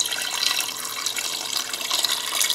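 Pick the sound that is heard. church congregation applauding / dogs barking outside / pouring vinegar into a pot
pouring vinegar into a pot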